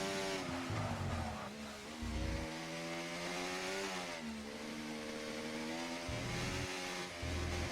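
A race car in a sim racing game roars through a left-hand corner, the engine note rising and falling with throttle changes as the tyres squeal, loud and continuous over several seconds.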